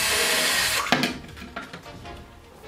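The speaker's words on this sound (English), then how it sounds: "when you drill, you just make sure that the drill fits your rivet" A power drill fitted with a 1/8 bit bores a hole for a 1/8 rivet in scout trooper armor, a steady close whine that stops abruptly, followed by a few light knocks and clicks.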